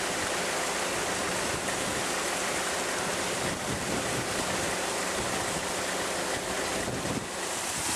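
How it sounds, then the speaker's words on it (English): Water rushes and gurgles steadily at the St. Lucia sulfur springs as a container is filled, a loud constant flowing wash close by with no talk. "I just want to fill the water."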